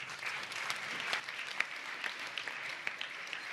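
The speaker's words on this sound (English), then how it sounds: "Another round of applause, please." An audience in a large meeting chamber applauds after a panel session, a soft, distant patter of many hands with a few sharper claps standing out, steady throughout.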